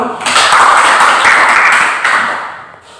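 A classroom of students claps hands together in a dense, fast burst of applause that holds steady for about two seconds, then thins out and fades.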